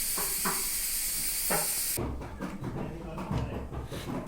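A pressure cooker cooking pudina rice hisses steadily with a high, steamy whistle for about two seconds, then cuts off, leaving quieter kitchen rumble and a few soft knocks behind it.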